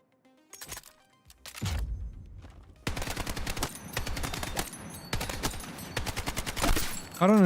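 Rapid gunfire from a weapon in the Battlefield 6 video game, loud bursts of automatic shots in long rhythmic strings after a few scattered opening shots, continuous and dense.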